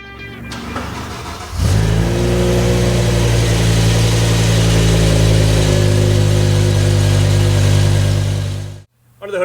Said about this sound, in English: Under the hood of the M5, you're going to find BMW's familiar 5-liter V10